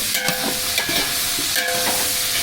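Sliced onions and green chillies fry loudly in hot oil for jackfruit biryani, a strong close sizzle with stirring strokes and a couple of brief tonal squeaks from the pan.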